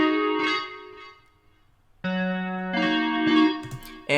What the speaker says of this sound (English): I threw on overdrive, flanger, reverb, and then EQ to take out some of these highs, and now this is what our steel jazz sounds like.